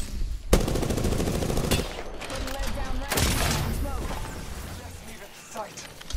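Gunfire in the video game Apex Legends, rapid automatic bursts with a sharp loud start, then scattered shots and combat noise trailing off, with voices talking over the fight.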